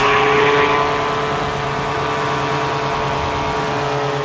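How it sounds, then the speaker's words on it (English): Polini 202 water-cooled, high-compression paramotor engine at full power during a climb, a loud, steady, droning buzz holding constant RPM throughout, no talking. "The 202 is, again, water-cooled, high-compression engine."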